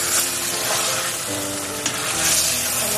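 Boneless chicken sizzling and frying in hot oil in a pan, a loud, steady, close crackling hiss with occasional pops and stirring scrapes.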